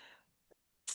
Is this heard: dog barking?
no